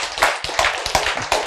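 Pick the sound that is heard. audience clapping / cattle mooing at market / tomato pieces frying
audience clapping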